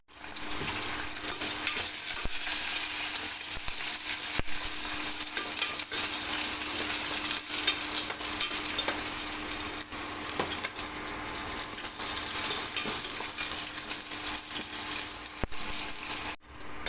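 Steady crackling sizzle of green chillies frying in hot oil, close and continuous, with occasional soft stirring clinks throughout.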